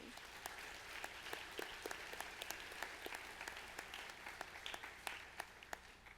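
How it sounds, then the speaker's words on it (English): A graduation banquet audience claps for the parents of the class of 2017, a faint, distant patter of scattered hands with sharper individual claps standing out. "Let's give applause one more time to all the fabulous parents of the class of 2017"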